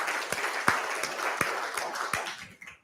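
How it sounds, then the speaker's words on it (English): An audience gives a round of applause at a veterans' financial investing panel, a dense crowd patter with a few sharper claps standing out, fading away toward the end. "How about a round of applause for them?"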